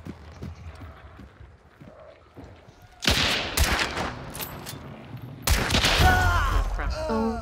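Gunfire in the game Hunt: Showdown: a couple of sharp, loud volleys of shots, each with a rolling echoing tail, over a quieter background with a few spoken words.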